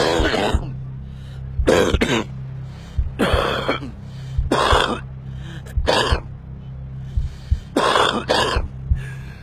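A smoker's cough comes as a run of harsh, close coughs and throat-clearing bursts in separate clusters, with a low hum in the background.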